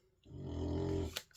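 A dog lets out one low, rumbling growl lasting about a second, fairly faint but close, with no voices around it.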